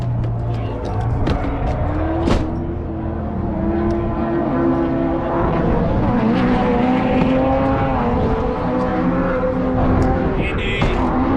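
A race car drives hard on the track at Gridlife Willow Springs, with a loud engine note rising and falling through gear changes, heard close and continuous with brief tire noise.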